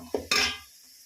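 Metal spoon stirring and scraping dried fish with turmeric in a cooking pot: two short clattering strokes, close and fairly loud, then quiet.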